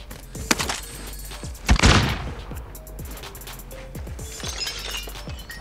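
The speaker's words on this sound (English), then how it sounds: "I heard glass breaking." Glass shatters in the Call of Duty: Warzone video game amid a series of sharp impacts and clinks, one loud crash standing out among scattered smaller breaks and thuds.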